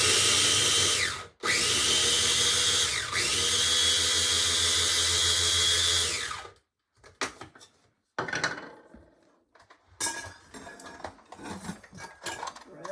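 Ramps being ground into ramp butter in a food processor: a loud, steady motor whir with two brief stops in the first six seconds, then pauses broken by irregular clattering and scraping bursts.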